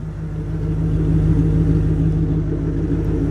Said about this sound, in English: here we are on our 1995 Ford F-250 for the running and driving video